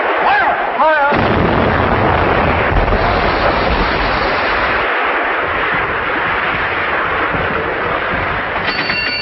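Artillery fire in a 1937 British spy film, a dense, loud blast-laden roar under heavy noise, with a brief voice at the start.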